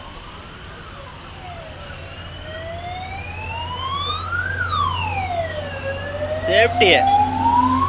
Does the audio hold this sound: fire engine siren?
yes